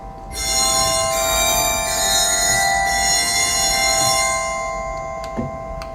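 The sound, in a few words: Barton theater pipe organ glockenspiel (orchestra bells)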